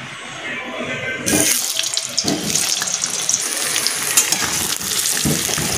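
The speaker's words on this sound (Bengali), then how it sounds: "প্রথমে আমি আলুগুলো ভেজে নেব" Potatoes drop into hot oil and a loud, steady sizzle and crackle follows, continuing with occasional stirring clatter.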